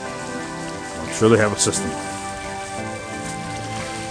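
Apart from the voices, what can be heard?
running water from pumped fountain waterfall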